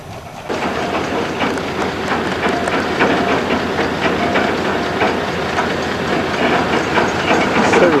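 Steam locomotive No. 9 of the St. Thomas Central Railway standing at Shedden station, Ontario, during a summer festival, giving a steady, loud hiss with faint clicking and rattling throughout, no talking.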